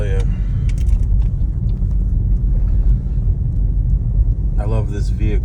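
Jeep driving through a January snowstorm, a steady low engine and road rumble heard from inside the cabin, with someone speaking briefly near the end.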